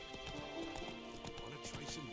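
Horse hooves clip-clop at a steady trotting pace in The Witcher 3: Wild Hunt, a rhythmic run of hoofbeats heard faintly under game ambience.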